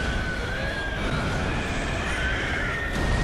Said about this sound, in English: Oh, this poor horse died.